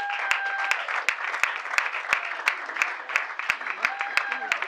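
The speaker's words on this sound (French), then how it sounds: "applaudissez comme il se doit" An audience applauds at a certificate presentation for workshop participants, a steady wash of many hands clapping throughout, with a few sharper claps standing out and brief vocal tones rising over it.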